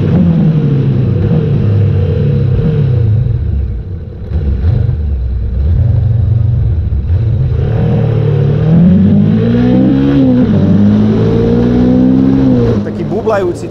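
A Honda 500 motorcycle engine, an NX500 or CB500F Hornet, revs and drops repeatedly with a throaty, rising and falling growl, loud and close, while someone talks over it.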